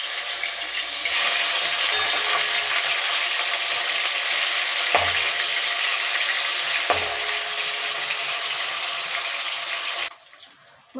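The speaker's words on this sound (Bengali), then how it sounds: "এবার মাছগুলোকে উল্টে দেবো" Fish fry in hot oil with a loud, dense, continuous sizzle close by, broken by two sharp knocks as the pieces are turned, before the sound cuts off abruptly near the end.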